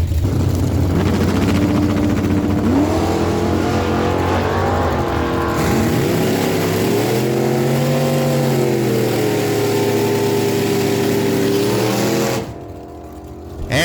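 Drag racing cars at a dragway start line, loud sustained engine roar with revving that rises and falls, close and continuous until it cuts off near the end.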